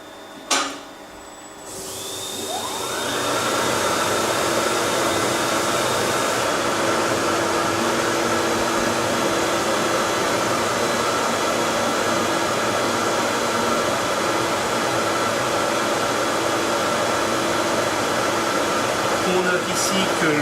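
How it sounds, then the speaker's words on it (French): Laser cutter engraving a cardboard and acrylic trophy in a scanning pass, a steady whooshing air-extraction hum that rises after a click and holds evenly throughout. "Actuellement, la machine grave en balayage,"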